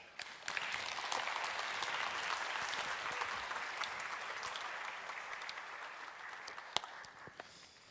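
Sustained audience applause at the 10th World Summit on Arts and Culture, a dense steady clapping that fills the hall for the whole stretch, heard alone without speech and tapering slightly near the end.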